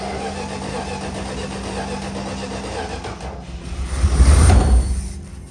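A 1978 Dodge Aspen Super Coupe that has sat for 30 years cranks steadily on a jump pack, then sputters and coughs loudly as it briefly catches before dying away.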